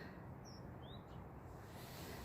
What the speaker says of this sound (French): voyez, les petites mésanges